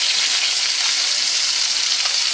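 Fish sizzles loudly in a pan of hot oil, a close, continuous hiss and crackle that holds steady throughout with no voices.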